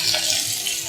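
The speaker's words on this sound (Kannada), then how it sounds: "ಈರುಳ್ಳಿನ ಒಂಚೂರು ಸಾಫ್ಟ್ ಆಗೋವರೆಗೂ ಫ್ರೈ ಮಾಡ್ಕೊಳ್ಳೋಣ" Chopped onion fries in hot oil with whole spices in a pan, a constant bright hiss and crackle that runs briefly and steadily at close range, no talk.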